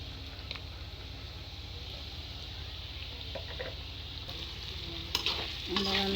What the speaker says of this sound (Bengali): এবার আমি এটাকে ভালো মতন নেড়ে নিচ্ছি।